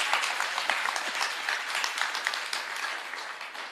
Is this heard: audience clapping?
yes